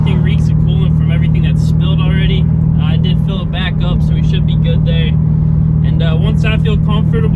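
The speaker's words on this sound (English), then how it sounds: "try to get the car warmed up" Third-generation Mitsubishi Eclipse warming up, its engine a steady loud low hum running throughout with a brief dip partway, while someone talks continuously over it.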